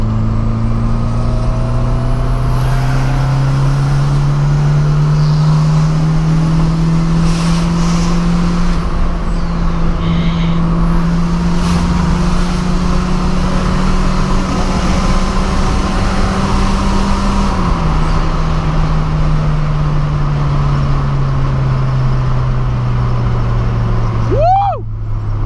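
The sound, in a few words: turbo car accelerating at high speed and braking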